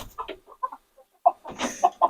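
Chickens cluck in short, scattered bursts at a hatchery, some soft and some louder and close by, with a denser flurry of clucking toward the end.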